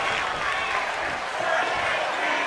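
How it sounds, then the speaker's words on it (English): A wrestling arena crowd in the video game WWE 2K23 roars in a dense, steady wash of cheering and noise, loud and unbroken throughout. "The sound of this crowd is deafening, and he's asking for more"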